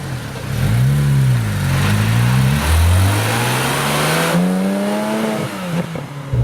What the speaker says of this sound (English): All right, driving the 911R.